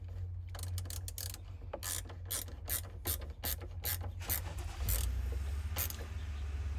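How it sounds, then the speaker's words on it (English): A hand ratchet tightens a bolt on a 2019 Jeep Wrangler 2-door Sport fender, giving quick, close clicking bursts in an uneven rhythm over a low steady hum. "get that in place and then you tighten up your bolt"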